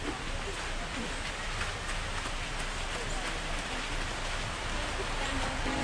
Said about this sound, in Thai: ตอนนี้ฝนตกแรงมากครับ